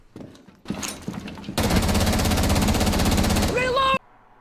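Rapid bursts of gunfire in the tactical shooter Rainbow Six Siege, opening with a few scattered shots and then a loud, sustained rattling volley that cuts off abruptly with a short rising electronic tone.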